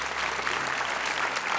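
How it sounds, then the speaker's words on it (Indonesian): An audience at a motivational seminar breaks into dense, sustained clapping, loud and close, filling the whole short burst. "Kasih tepuk tangan buat Ferry."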